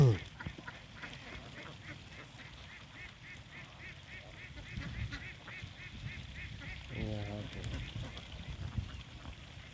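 Egg-laying ducks quack in a steady stream of repeated calls at a moderate distance in evening rain, with a soft wet background hiss.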